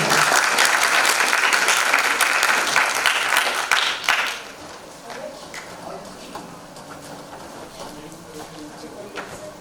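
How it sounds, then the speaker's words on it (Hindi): Applause from an audience at a farewell event at a computer centre, a loud dense burst of clapping for about four seconds that then fades to scattered claps and room murmur with voices. "तालियां हो जाए।"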